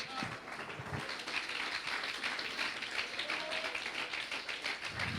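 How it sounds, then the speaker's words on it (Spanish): Church congregation applauding during a sermon, a continuous, fairly quiet and distant patter of many hands clapping with no voices over it. "Dale un aplauso"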